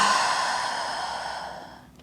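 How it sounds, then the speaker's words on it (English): A deep yoga exhale flows out as a single long, soft breath, loud at first and fading steadily over two seconds, with no talking. "Take one final deep breath in. And deep breath out."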